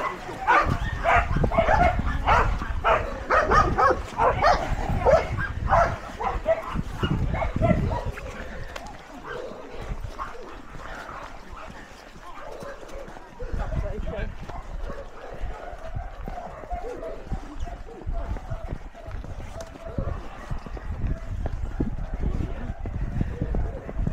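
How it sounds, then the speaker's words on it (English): Several excitable dogs bark and yip along an equestrian-centre parkrun course, sharp repeated barks close and mid-distance over runners' movement and outdoor noise, busiest at the start and fading to scattered yelps. "Lots of excitable dogs."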